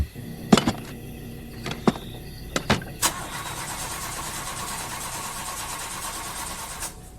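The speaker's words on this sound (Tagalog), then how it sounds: "Sinubukan nilang paganahin ulit, pero hindi na talaga ito umandar." An engine being cranked in a village setting, several sharp clattering starter bursts and sputters before it catches into a rough, steady running drone that continues to the end.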